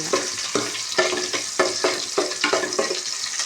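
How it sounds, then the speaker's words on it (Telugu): Lentils frying in hot oil in a pan, a constant crackling sizzle with regular spatula strokes scraping the pan about twice a second, close and moderately loud, no speech. "ఆయిల్లో వేసుకొని బాగా ఫ్రై చేద్దాం."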